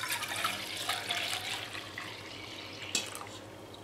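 Dye liquid poured from a large container into a smaller one while botanical dyeing outdoors, a faint continuous watery splashing and trickling with a brief louder splash near the end.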